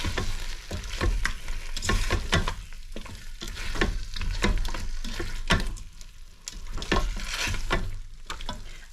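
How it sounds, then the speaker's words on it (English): Peking-style Chinese ribs sizzle steadily in a pan while slow cooking, a loud continuous frying crackle dotted with sharper pops and occasional stirring knocks, with no talking. "I just really want them to slow cook so that the meat just falls off the bone."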